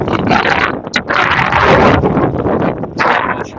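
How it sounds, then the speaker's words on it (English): Strong wind sweeps outdoors by the river at Sippo, roaring and buffeting the microphone in loud, continuous gusts. "We just came back to Sippo, and it is super windy."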